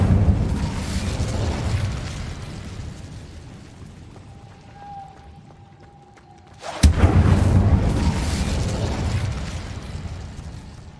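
The Incendio fire spell goes off in the video game Hogwarts Legacy, a sudden loud fiery burst and whoosh after a quiet stretch, then sustained roaring rumble.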